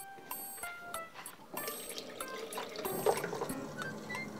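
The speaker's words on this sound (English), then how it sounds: "So what I have to do is fill this with water" Water trickles and splashes as it is poured into a Pikachu electric bento box, faint and close, with intermittent drips and clinks of the container.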